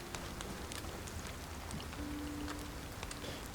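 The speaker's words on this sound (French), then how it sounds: "Vous voulez attendre la fin de la pluie?" Steady rain falls outdoors in cold weather, a dense, even hiss of drops hitting surfaces with no pauses, moderately loud and close, with no voices over it.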